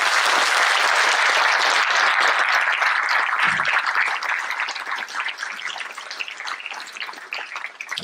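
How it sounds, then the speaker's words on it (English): Sustained loud applause from a large campus audience welcoming an eminent guest speaker, dense and steady at first, then thinning into scattered claps toward the end. "A huge round of applause, please."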